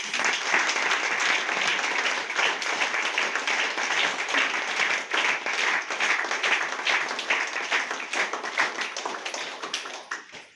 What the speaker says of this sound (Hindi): और इन लोगों के लिए मैं जबरदस्त ताली चाहती हूँ।